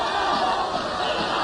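Dense, loud wrestling arena crowd at an early-1980s Calgary tag-team match, cheering and shouting in a steady unbroken roar to urge on the trapped Johnny Smith.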